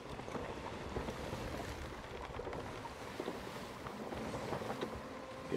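A sailing ship at sea in the Sea of Thieves video game, sailing with the wind from behind, gives a steady low rush of water and wind at moderate volume with no speech.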